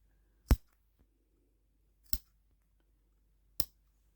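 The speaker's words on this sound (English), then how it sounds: "The first bit is the scary bit, and that's where we cut the buttonhole open." Sharp applique scissors snipping open a hand-sewn buttonhole in fabric: three crisp, isolated cuts spaced about a second and a half apart, close and clear in a quiet room.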